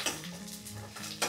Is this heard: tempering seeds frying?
yes